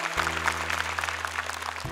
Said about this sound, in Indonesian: Luar biasa, tepuk tangan.